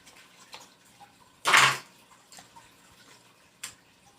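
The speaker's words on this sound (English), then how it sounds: "So some water was spilled" Water splashes as it spills during pouring into containers, a single short, quiet burst followed by a few faint drips and small clinks in a calm room.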